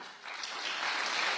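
A brief burst of audience clapping during a spiritual talk, a soft, dense patter of hands that swells slightly toward the end.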